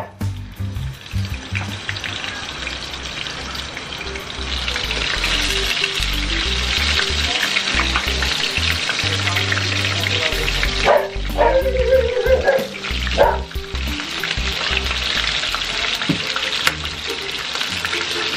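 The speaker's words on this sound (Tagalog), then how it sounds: "mapiprito na natin yung ating beef patty" Thick Angus beef patties sizzle and crackle loudly in hot oil in a pan, a steady spitting hiss throughout with a few louder pops and dull knocks midway.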